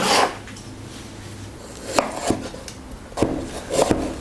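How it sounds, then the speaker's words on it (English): Knife slicing an onion into thin slices on a cutting board while preparing chow mein ingredients, a few sharp separate cuts spaced out, close and fairly clear with no talk. "Cut the onion into thin slices and then loosen it."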